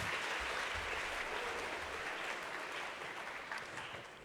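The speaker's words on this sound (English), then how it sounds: "So one more round of applause" Applause at a high school assembly, a dense, steady wash of many hands clapping that fills the room for a few seconds before tapering slightly, fairly quiet overall.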